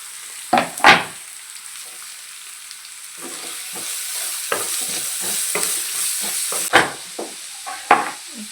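Vegetables sizzle and fry with ginger garlic paste in a pan, a steady hiss broken by sharp stirring scrapes and clatters, close and fairly loud, with no voices.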